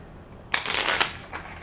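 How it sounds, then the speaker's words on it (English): A deck of tarot cards is shuffled once: a sudden riffling burst of papery flutter lasting about a second, close and crisp, with no talking. "Last shuffle."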